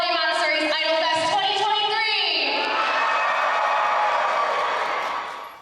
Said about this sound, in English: make sure to cheer really loud for all those idols